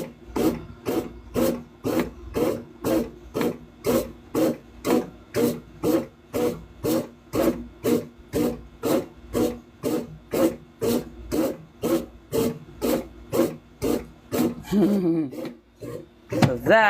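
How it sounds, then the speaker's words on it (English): A small bread maker kneads dough in steady, rhythmic scraping pulses about twice per second, close and fairly loud, before the motion slows and stops near the end. "I love this little bread maker. It is an absolute champ. And look at how quickly it's scraping everything together."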